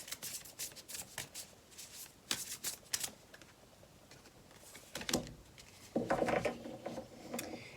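Tarot cards are shuffled and drawn up close, giving a run of quick riffling flicks and soft slaps in irregular bursts, with a denser flurry toward the end.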